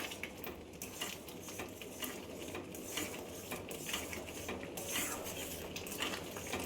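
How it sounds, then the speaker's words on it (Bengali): Thick mango pulp for aamsatta being stirred continuously in a pan, giving a steady run of soft scraping and clinking utensil sounds with no speech. "অনবরত এইভাবে নেড়ে যেতে হবে।"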